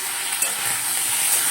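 Chicken pieces frying in hot oil make a loud, continuous, close sizzle with a dense crackle that stays steady for the whole moment, with no voices.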